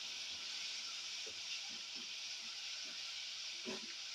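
Grated raw mango frying in oil over a lowered flame for mango pulihora, a steady broad hiss of sizzling oil with occasional soft pops and faint utensil knocks, close and continuous with no talk.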